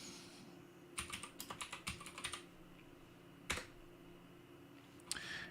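Keys tapped on a computer keyboard during Linux command-line work: a quick burst of several close clicks, a pause, then a couple of isolated keystrokes, all quiet and with no talking.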